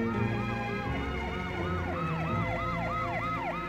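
An ambulance siren wails in a fast, repeating up-and-down pattern, steady and moderately near, over a low rumble of traffic.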